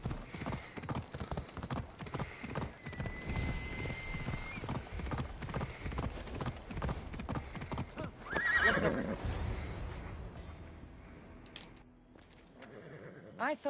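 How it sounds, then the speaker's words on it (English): Horse hooves clip-clop in a steady rhythm with a neigh, heard in the Greek world of the Assassin's Creed Odyssey game under a busy game soundscape, with voices talking over much of it. "I thought Adonis could make good use of this horse."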